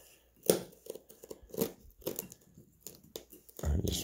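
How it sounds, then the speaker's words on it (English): A package is cut and torn open with one hand, giving irregular bursts of crinkling plastic, snipping and tearing that are loud and close, separated by short quiet gaps. "I can cut this open with one hand."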